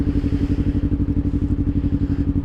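Motorcycle fitted with a DX Generation Sphere Oval aftermarket exhaust, idling with a loud, steady low-pitched burble and rapid rhythmic pulses close by, with no voices.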